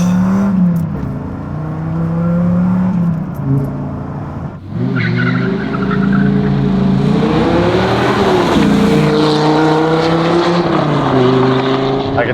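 A Dodge Viper GTS accelerates hard with its engine roaring loudly and climbing through the revs, tires squealing and a shift break midway, heard from inside the car.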